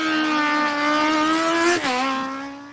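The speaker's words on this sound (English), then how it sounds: "That sounds like a noisy motorcycle." A loud engine drones steadily at high revs, briefly dipping in pitch as if shifting gears, then roaring on.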